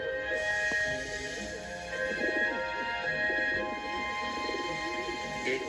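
Doves coo in a farmyard dove house in a Thomas the Tank Engine story setting, soft repeated bird calls layered over a steady tonal background hum, with no talking.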